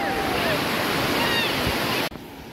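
Sea waves washing in at Tarkarli Beach, a steady loud broadband surf roar filling the scene, cutting off abruptly near the end.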